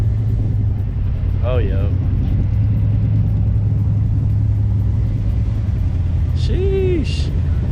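Green Ford Mustang 5.0 V8 at a cars and coffee meet, a loud, deep, steady idle rumble close by, with brief voices exclaiming over it.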